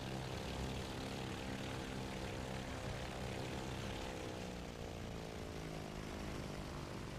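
Steady, loud propeller engine drone of a WWII-era naval fighter in the flight sim IL-2 1946, approaching a carrier landing; a constant close harmonic roar runs unchanged throughout, with no talk.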